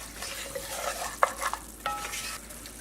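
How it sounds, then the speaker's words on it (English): Spoon stirring browning flour-and-water gravy in a pan, soft scraping strokes and a few sharper knocks against the metal over a low sizzle, with no talking. "Have to keep stirring it."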